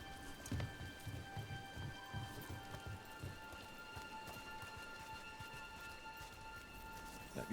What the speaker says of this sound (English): No, it's because we're being rained on.